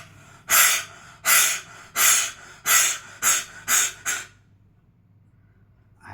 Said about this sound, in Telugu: గొంతు నుంచి గాలి, మన ఇంట్లో డాగు ఆయాసపడుతున్నప్పుడు కక్కునట్టుగా చేస్తుంటుంది కదా, అలా గాలి గట్టిగా బయటకు వదలాలి